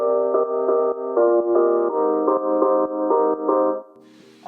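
Bright piano chords repeat in a steady, even rhythm, each stacked voicing ringing in a higher register before the last one fades out.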